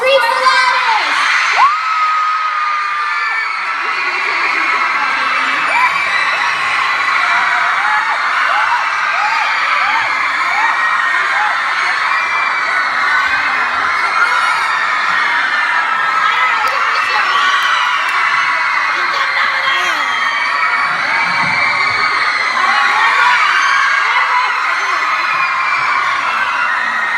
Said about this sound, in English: we're gonna throw them out to whoever screams the loudest